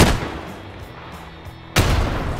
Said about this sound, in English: we died by a nade